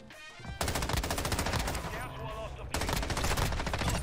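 Rapid automatic fire from an M13 rifle in a video game, dense bursts of shots crackling loud and close, broken by a brief pause before the firing resumes, with a voice faintly under the gunfire.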